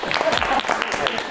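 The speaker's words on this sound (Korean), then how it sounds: "박수 한번 또 드릴까요?" A small group in a studio setting claps briefly while people talk over it, the hand claps close and uneven in a short burst.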